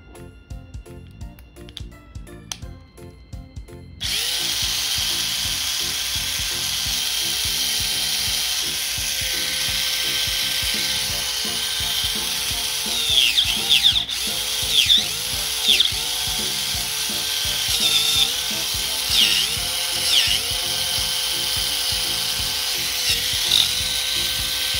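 Small electric motor of a classic Mini 4WD car on a Super TZ chassis, after long storage, running with a steady high whine and light gear rattle for over twenty seconds, brief clicks at the start, no talk.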